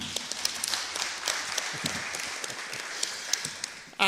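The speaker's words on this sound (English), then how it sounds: "Yes, a big hand of applause to the chair." A conference audience applauds the session chair at an international tourism and hospitality academic conference, a sustained moderate patter of many hands clapping in a hall.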